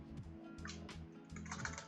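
Rapid keystrokes on a computer keyboard while coding in Qt, close and clear, with a steady run of clicks that briefly pauses mid-way before resuming.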